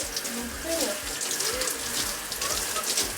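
Running water pours steadily while hair treated with organic henna is rinsed, a close continuous splashing rush with faint voices briefly underneath.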